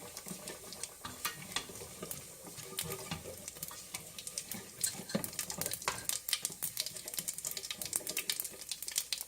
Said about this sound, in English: Add your cumin seeds. Just until they change color, they start popping.